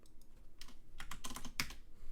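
Typing on a computer keyboard, a quick irregular run of close, light clicking keystrokes with a few louder taps, no voices.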